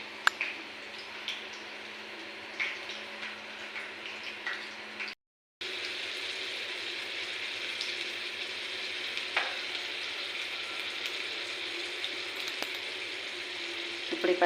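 Green chillies frying in hot oil make a steady, close sizzle with scattered small pops and stirring ticks, cut by a brief silent gap midway before the frying carries on.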